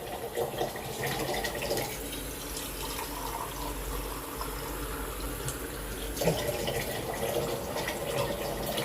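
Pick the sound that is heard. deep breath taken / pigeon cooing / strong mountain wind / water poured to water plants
water poured to water plants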